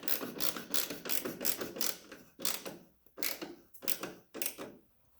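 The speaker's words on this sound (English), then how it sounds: "you're gonna need a T25 Torx bit to screw this stuff on" A T25 Torx bit on a power driver screws cowl hardware onto a Honda EF Civic in short, loud ratcheting bursts separated by brief pauses, heard up close.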